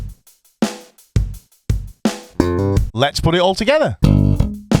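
Slap bass playing a stomp-style riff at full speed, a quick run of sharp, percussive slapped and popped notes up close, followed by someone talking.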